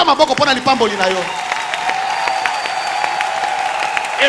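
A church congregation applauds with a rapid patter of clapping, and a raised voice speaks over the start before the clapping settles into a steady wash.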